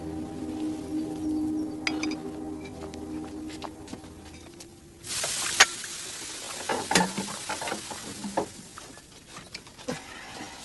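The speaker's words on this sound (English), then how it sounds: "Pots are not meant to be taken straight from the fire and plunged into cold water." A hot clay pot taken straight from a fire is plunged into cold water, giving a sudden loud hiss and sizzle midway that then settles into crackling and scattered ticks.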